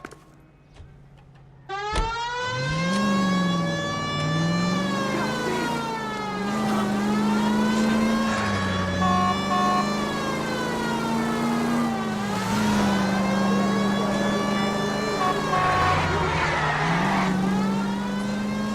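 A car is driven in the video game L.A. Noire, its engine rising and falling through repeated gear shifts with a wailing siren over it, loud and continuous.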